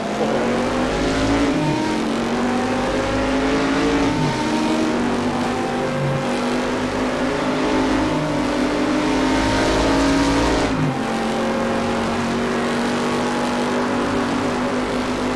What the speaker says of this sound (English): Engine noise, slightly hot PS4.